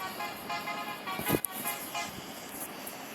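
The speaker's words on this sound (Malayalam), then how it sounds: "ഇപ്പം നമ്മളെ ഒരു ഹോൺ അടിയാണ്." A bus horn honks once in a bus-driving video game, a short loud toot standing out over steady engine and road hum.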